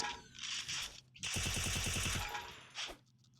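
Rapid UMP submachine gun bursts in the Free Fire mobile battle royale game, a close, loud rattle of evenly spaced shots lasting over a second, with shorter gunfire bursts before and after.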